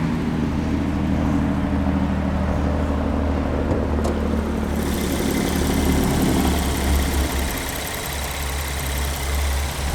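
The V6 engine of a 2022 Kia Carnival idles steadily, a close, even low hum and rumble that shifts slightly in tone partway through, with no voices.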